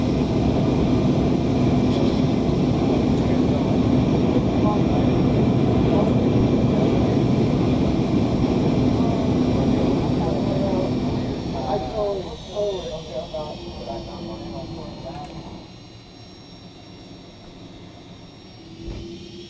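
Boeing 757 jet engines on a taxi in the X-Plane 11 simulator, a loud steady whining roar with a tonal hum that fades and thins toward the end, with voices talking over it.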